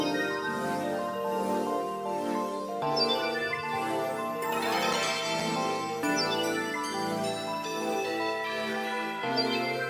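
Layered synthesizer chords swell and sustain, with bright bell-like tones ringing on top, steady and full throughout.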